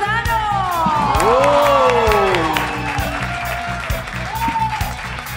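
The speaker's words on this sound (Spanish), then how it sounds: "aplausos por favor" An audience at a music show applauds and cheers for the sound engineer, loud clapping mixed with whoops and shouts, with rising and falling voices calling out over the crowd.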